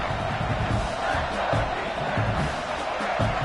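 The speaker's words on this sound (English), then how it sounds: "Man, this crowd really affecting the football game." A loud home crowd roars and cheers continuously through a college football game, Notre Dame's Irish on a third-and-goal play, a dense wall of stadium noise with shouts rising and falling.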